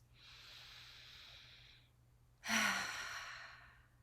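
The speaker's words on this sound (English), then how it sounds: "Deep breath." One person takes a deep breath during a tapping relaxation session: a long, soft inhale, a short pause, then a louder, airy exhale that fades out, close and alone.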